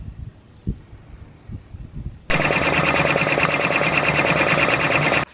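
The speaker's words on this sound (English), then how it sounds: "I'm just embroidering" A hat embroidery machine starts stitching after a couple of seconds of quiet background, running as a steady, loud, rapid mechanical whir for about three seconds before stopping.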